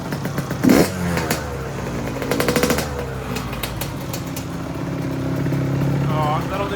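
A motorcycle that has sat unused for a while sputters to life in a shed, firing in ragged bursts before settling into a rough, rising rev, with a voice talking over it.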